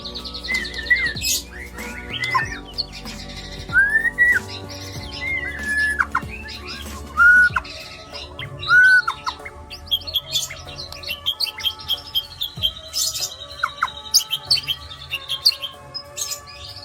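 A white-rumped shama (murai batu) sings close by in a varied, lively sequence of rising whistles, sharp chirps and rapid trills, broken by short pauses, with faint background rustling and no talk.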